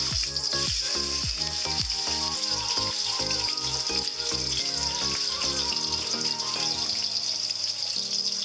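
Pork chop frying in hot oil in a pan, a steady loud sizzle and crackle running throughout with some clattering of the pan early on, no talking.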